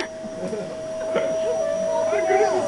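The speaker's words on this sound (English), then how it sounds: "Look at this vacuum cleaner." A vacuum cleaner runs with a steady whine and hum indoors, holding a constant tone while faint movement noises and a voice come and go over it.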